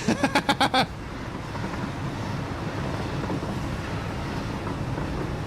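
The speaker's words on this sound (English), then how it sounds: "I'm going to go ahead and stop the train here." Fast train in the Satisfactory video game, a steady low rumbling rush of rolling wheels and wind, preceded by a quick burst of about six sharp rhythmic clacks at the start.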